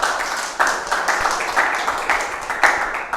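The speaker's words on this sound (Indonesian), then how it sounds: "beri tepuk tangan dulu untuk Reva dong" An audience applauds for Reva at a talk on the traditional Jaranan art of Semarang Regency, a steady patter of many hands clapping, fairly loud and continuous, with no one speaking over it.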